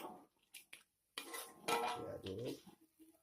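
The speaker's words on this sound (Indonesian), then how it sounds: "Nah, diaduk sampai merata begini" Anchovies and tofu being stirred in a pan over low heat, with a few close scraping and clinking utensil strokes against the cookware after a short pause.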